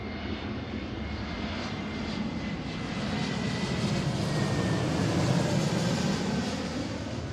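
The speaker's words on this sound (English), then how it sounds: "this is right after the 321 that's landing right now, actually." An Airbus A321 jet landing, its engines making a steady broad roar that swells slightly toward the middle and stays constant throughout, heard from an outdoor spotting position with no talking.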